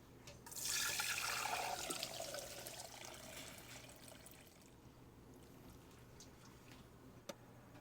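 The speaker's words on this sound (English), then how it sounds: "it's time to strain our ramen broth" Ramen broth is poured through a colander into a bowl, a quiet rushing splash of liquid that swells early, then thins to a soft trickle and dribble, with a small clink near the end.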